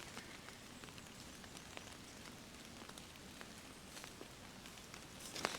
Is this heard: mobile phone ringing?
no